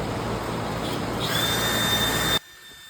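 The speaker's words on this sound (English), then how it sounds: "Here is the official buffing wheel that will prepare the inside of the tire before you put the patch in." A buffing wheel on a power tool whirs steadily as it roughens the inside of a tire for a patch, a close high-pitched grinding hum that cuts off abruptly near the end.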